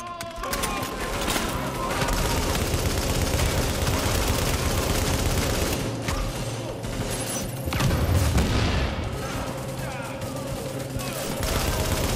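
Gunfire rattles through a Tom Clancy's The Division firefight at the Russian consulate, dense bursts of automatic shots and booms that continue steadily and loudly throughout.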